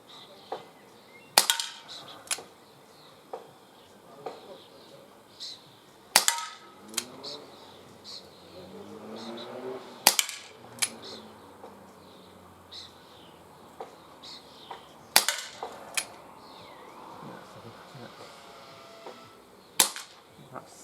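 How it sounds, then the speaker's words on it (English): Webley MK6 revolver replica firing pellets outdoors, about five sharp, loud cracks spaced a few seconds apart, each with faint handling clicks between, against quiet birds and insects. "these pellets seem to be shooting slightly to the left"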